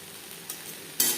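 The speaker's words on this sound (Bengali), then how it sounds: "বেশ ভালো করে কাঁকরোলের সাথে নারকেল মিক্সড করে দেবো।" Fried pointed gourd being stirred with grated coconut in a pan, a soft sizzle with a couple of quick scraping strokes, the last one louder and close.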